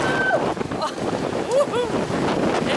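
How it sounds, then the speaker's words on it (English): Strong wind from Hurricane Delta roars and buffets the microphone in loud, rushing gusts without rain, with faint voices briefly audible underneath. "This is the wind that we're experiencing here."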